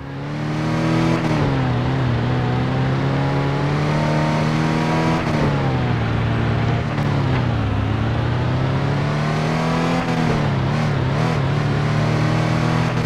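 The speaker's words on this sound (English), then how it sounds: "many car sounds are reused, like a Charger SRT8 having the exact same engine sound as an Eclipse GT" A car engine drones in a Fast and Furious racing video game, the shared sound used for both a Charger SRT8 and an Eclipse GT, revving up and down in smooth waves and loud and steady throughout.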